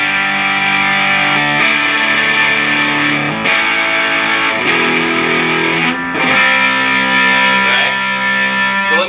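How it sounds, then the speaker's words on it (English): Distorted electric guitar power chords in open position ring out loud and sustained, with fresh strikes roughly every one to two seconds, heavy with effects and harmonic grit, no talking over them. "What I'm talking about is you get a power chord."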